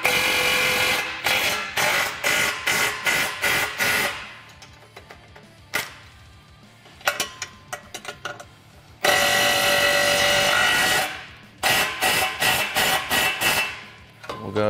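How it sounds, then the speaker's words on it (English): Bolts on a winch bumper for a Polaris Ranger XP 1000 being tightened by hand with a 15 mm socket and wrench, giving bursts of rapid metallic ratcheting clicks separated by short pauses, close and clear. "We're gonna go ahead and take our 15 millimeter socket and a 15 millimeter wrench. And we'll tighten up our bottom hardware."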